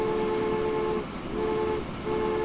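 Train rolling over a bridge in Transport Fever, a steady rumbling drone with a sustained tonal hum that dips twice as it runs, heard alone and fairly close.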